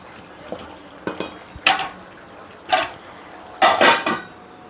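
Curry with potato being stirred in a pot, a metal spoon scraping and clinking several times, followed by a lid set down with a couple of sharp clanks, close and alone.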